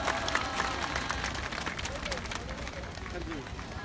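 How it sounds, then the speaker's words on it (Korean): Crowd applause and clapping at an outdoor rally after a children's performance, a steady dense wash of many hands lasting throughout with some crowd murmur mixed in. "큰 박수 다시 한번 부탁드립니다"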